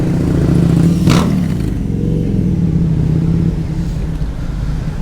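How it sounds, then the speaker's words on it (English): A Harley-Davidson motorcycle approaches and passes in hot afternoon Sydney traffic, a steady low engine rumble building up close, with a sharp burst near the start, over continuous road and car noise. "You can hear a Harley coming up behind me"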